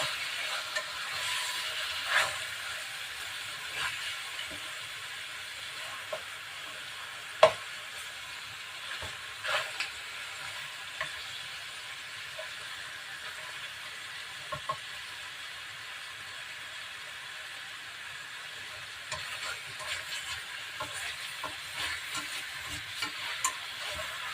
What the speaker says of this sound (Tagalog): Gisa lang natin yung durog na paminta rin.